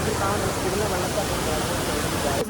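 A steady, loud rush of falling water, continuous and broadband, like a nearby waterfall roaring without pause, at Vattavada in Kerala.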